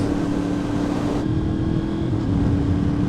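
Yamaha R1M motorcycle fitted with an aftermarket exhaust and velocity stacks roars steadily with a loud, dense engine drone, the pitch easing slightly partway through, heard up close with wind noise and no talking.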